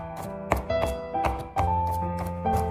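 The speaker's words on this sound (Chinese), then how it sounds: "先把它切成蒜片" A knife slices garlic cloves on a cutting board, several sharp, separate taps at an unhurried pace, close and clear over steady tonal background music.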